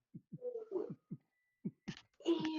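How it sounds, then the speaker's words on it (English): A beating heart thumps in soft, low double pulses, a lub-dub rhythm repeating several times, faint and close, with other murmuring sounds and a brief voice-like tone mixed in. "his heart beating."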